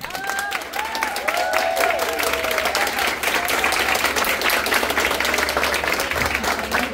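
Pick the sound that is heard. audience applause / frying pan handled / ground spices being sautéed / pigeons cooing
audience applause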